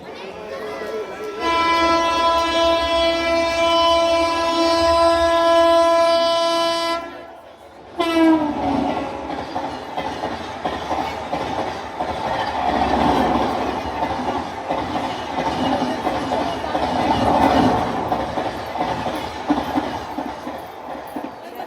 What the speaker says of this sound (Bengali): একটার পর একটা ট্রেন আসছে আর চলে যাচ্ছে